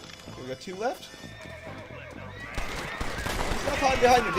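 A horse in Red Dead Redemption neighs in a rising, shaky whinny, followed by clip-clopping hooves and rougher background noise, with speech mixed in.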